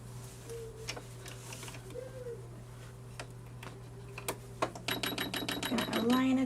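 A sewing machine stitching a Baby Moana costume starts up near the end in a quick run of rapid mechanical stitches, after a quiet stretch with a few soft clicks and handling sounds.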